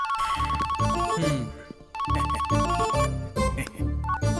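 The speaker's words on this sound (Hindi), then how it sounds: "रिंगटोन भी मुझे उसकी टोन में सुनाई दे रहा है।" A mobile phone ringtone plays a bright electronic melody that loops twice, loud and close, with a brief dip between repeats and no voices over it.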